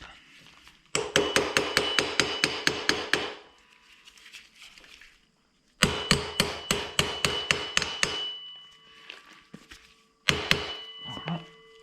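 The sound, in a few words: hammering on Peugeot 103 moped screws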